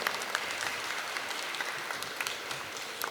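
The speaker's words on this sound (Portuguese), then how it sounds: "Palmas para o Vladimir" An audience claps to welcome a speaker at a political event on resistance to the military dictatorship, with brisk, steady applause from a moderately sized crowd and no voices.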